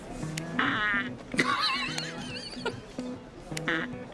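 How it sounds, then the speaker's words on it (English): A remote-controlled fart machine toy lets out a series of drawn-out, wobbling, squeaky blasts, several in a row with short gaps between them. "it's remote control fart? So you put it under somebody else's chair and then walk out of the room"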